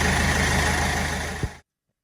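A Vauxhall Astra K petrol car engine idles with a steady low hum, heard up close, then shuts off abruptly after a short thump, leaving silence.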